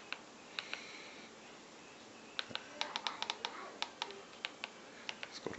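Keyboard typing while using Sony Google TV, a sparse run of faint clicky keystrokes, a few isolated taps, then a quicker burst of presses.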